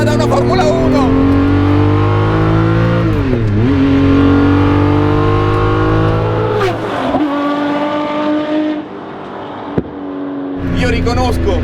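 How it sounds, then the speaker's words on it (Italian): A Ferrari F50's Formula 1–derived V12 revs loud and close, its pitch climbing and falling through repeated sweeps, with a brief lull near the end before it roars again. "Un V12 direttamente derivato da un motore di Formula 1"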